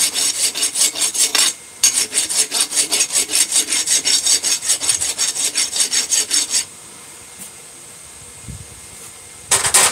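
A hand rasp scrapes across wood in fast, even back-and-forth strokes, loud and close, with one short pause early on, then it stops and leaves quiet room sound before a few final strokes.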